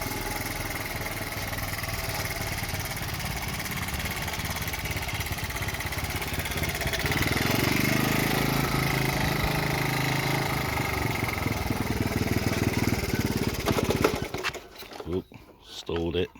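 A 1970 Honda ST50 Dax motorcycle engine runs at a steady idle, close by, with a slight rise in pitch midway and handling noise near the end, while a person talks over it.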